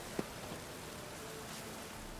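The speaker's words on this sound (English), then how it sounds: "Looks like rain." Rain falling in The Witcher 3, a soft, even hiss of steady rainfall heard quietly throughout, with one small brief tap near the start.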